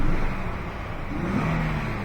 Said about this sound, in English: Give it a little gas, work the pedal back and forth.